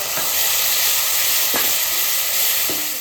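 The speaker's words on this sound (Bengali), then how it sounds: "পেঁয়াজটা ভাজা হয়ে গেছে এবার মশলাটা দিয়ে দেবো আদা রসুন" Continuous loud hissing sizzle of ginger, garlic, green chilli and spices frying in hot oil with browned onion, steady throughout with a few soft clinks over it.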